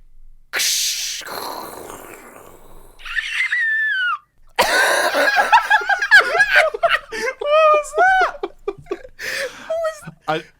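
A person vocally imitates a high, shrill woman's scream in several rising and falling wails, close and loud, with laughter and breathy noises between.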